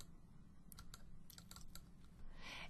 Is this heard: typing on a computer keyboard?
yes